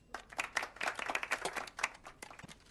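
A small group gives brief, scattered applause, with uneven hand claps that swell for about two seconds and then thin out, fairly quiet and with no voices.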